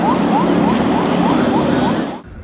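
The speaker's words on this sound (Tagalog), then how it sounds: "binasag ang katahimikan ng malakas na tunog ng sirena mula sa CCG vessel" A loud siren blares from China Coast Guard vessel 5303 at sea in rapid, evenly repeating rising whoops over a steady rumble, then cuts off abruptly.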